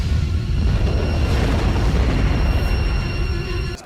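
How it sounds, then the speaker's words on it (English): A loud, sustained explosion rumble from a Babylon 5 episode fills the whole stretch with dense low boom and roaring debris, steady throughout before cutting off at the end, with no voices. "Explosion blew out most of Red 15."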